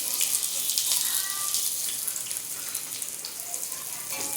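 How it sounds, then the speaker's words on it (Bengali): Chopped onions dropped into hot oil in a wok already spiced with bay leaf, dried red chilli and whole garam masala, giving a steady bright sizzle and crackle that holds for several seconds at moderate level. "নেক্সট আমরা দিয়ে দিচ্ছি এতে পেঁয়াজ কুচি।"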